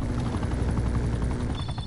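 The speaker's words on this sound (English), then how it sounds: "Oh, and a helicopter" A helicopter in the multiplayer war game Cold War Alpha thumps with a loud, rapid rotor chop that continues steadily for about two seconds, alone without voices.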